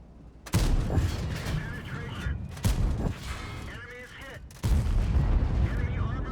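T57 Heavy autoloading tank cannon in World of Tanks, several heavy booming shots spaced a couple of seconds apart, loud and close, each followed by rumbling decay.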